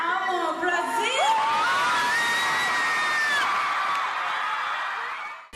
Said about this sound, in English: The crowd was stoked even before that, but once they've heard her speak their native tongue, her fans basically lost it